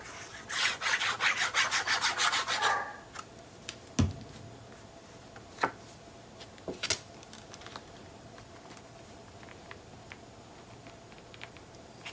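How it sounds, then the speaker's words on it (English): Ink pad or blending tool rubbed quickly along paper edges in a short burst of rapid, close scratchy strokes, followed by scattered light taps and handling noises in a quiet room. "I'm gonna ink these edges really fast and lay it in"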